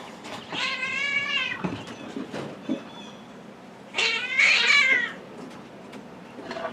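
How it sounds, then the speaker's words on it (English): Two cats fighting, drawn-out wavering yowls and caterwauls followed by a harsher, louder screeching burst, close and agitated with no talk. "I don't know why the cats are fighting."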